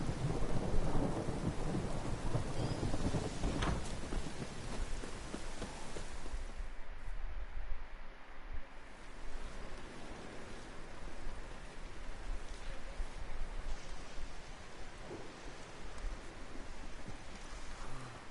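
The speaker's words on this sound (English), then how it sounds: "A storm, damn it." Steady rain and rolling thunder from a storm in The Witcher 3, with a sustained downpour throughout and a few deeper rumbles swelling and fading beneath the hiss.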